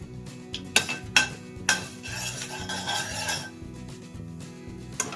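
Mustard seeds and cumin hit hot oil in a pan, giving a few sharp crackling bursts followed by a brief scraping stir, close and moderately loud.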